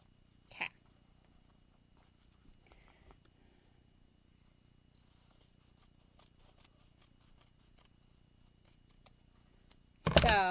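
Scissors cut fabric for an asymmetrical bag: sparse, quiet snips and small handling noises over near silence, ending in a loud, close burst of cutting.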